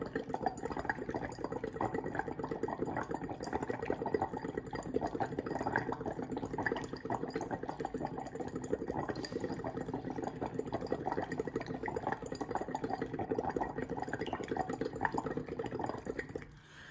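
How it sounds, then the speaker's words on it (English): Breath blown through a straw into a basic solution in a lab beaker gives a steady, faint bubbling gurgle that runs on without a break, with no speech. "if I blow bubbles in the solution"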